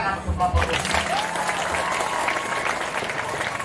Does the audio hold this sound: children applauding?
yes